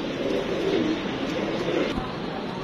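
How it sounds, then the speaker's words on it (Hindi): Cooing from a Salara Teddy pigeon with black wings, offered for sale in Lahore: soft, low, steady coos sit under a dense background hum, with a brief knock near the end. "ले भाईजन, ये एक सलारा टैडी कबूतर है काले पल्लों वाला"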